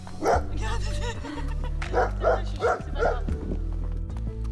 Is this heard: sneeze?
no